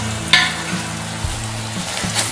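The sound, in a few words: onions frying in pan for mutton masala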